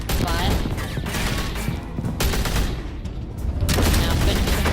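Gunfire bursts in the Batman Telltale Series video game, a dense, loud clatter of shots and booms running almost continuously, with a voice faintly mixed in.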